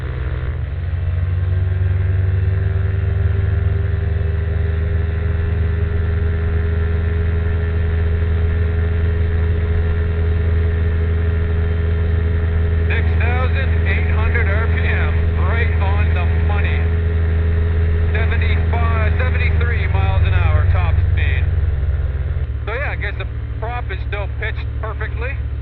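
Light aircraft propeller engine at full throttle in level flight gives a loud, steady droning rumble heard from inside the cabin. It stays constant throughout while a voice talks over it, partly in clipped radio-style bursts.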